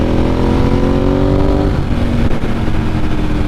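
A 15-year-old Ducati 1098S motorcycle accelerates hard, its engine note climbing in pitch and then dropping as it shifts up a gear, and then pulling on steadily, loud and close with wind noise.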